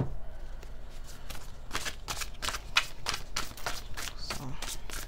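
Rapid, steady riffling of a tarot deck being shuffled close by, crisp repeated flicks running throughout.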